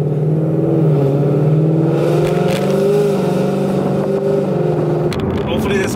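Ford Mustang engine revving loudly through a hard acceleration pull on a back road, heard from inside the car as a sustained, rising drone with shifting tones and a brief change near the end.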